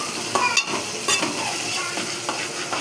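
Ginger paste and turmeric frying in a pan, an even close sizzle broken by a few light spatula scrapes and clinks, with no voices.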